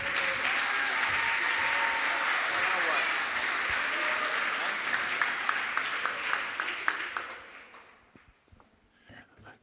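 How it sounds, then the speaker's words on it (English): Awards-ceremony audience gives a loud, sustained round of applause with dense clapping that gradually thins out and fades to a few scattered claps at the end. "I think they deserve a great round of applause."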